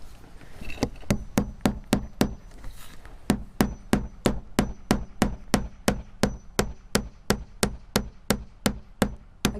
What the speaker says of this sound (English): we're gonna start nailing right about in the middle to help hold it